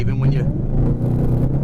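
A Whipple supercharged 2018 Mustang GT accelerating at half throttle, a low engine rumble building under a man's speech, fairly quiet and steady.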